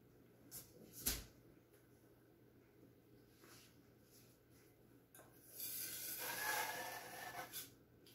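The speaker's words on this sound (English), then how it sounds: "just scraping off the paint again" Wet paint scraped off a surface during a fluid-art transfer bloom pour, a soft rasping rub with a few light taps early on and a longer, louder scrape near the end, close and alone.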